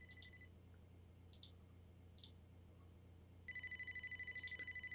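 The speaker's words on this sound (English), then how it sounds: "Phone's ringing." A telephone in the video game Amber: Journeys Beyond rings in short repeated bursts, faint and electronic, over a low steady hum with no voices.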